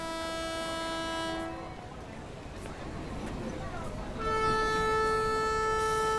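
An express train's horn sounds a long, loud, steady blast, fades into the rumble of the train under way, then blasts again for the last two seconds as the train departs.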